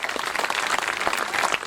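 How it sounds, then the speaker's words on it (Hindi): Audience applause at a 2016 Hindi poetry recital by Vinit Chauhan in Khariar Road, Odisha: a thin, steady patter of clapping from a crowd that holds evenly throughout, with no voices over it. "आपकी कमजोर तालियां मुझे कमजोर कर रही।"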